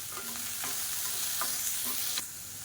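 Chillies, sliced onion and salt frying in hot oil for mint chutney make a close, steady sizzle, with a few soft stirring scrapes and no voices.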